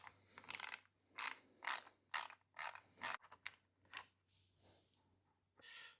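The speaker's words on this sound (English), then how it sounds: "we've undone the T25 bolt here on the front of it" A ratchet clicks in several quick bursts while T25 Torx bolts are undone on the handguard of a BMW R1300GS motorcycle, close and crisp with short pauses between runs and a faint low hum underneath.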